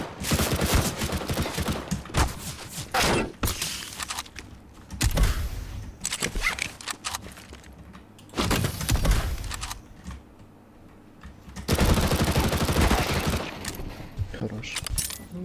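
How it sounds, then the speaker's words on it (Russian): Bursts of automatic gunfire and rapid shots from a CS:GO Danger Zone match, several loud volleys separated by short pauses, with players chatting over and between the shooting. "Да, он стреляет. Тут стреляют уже."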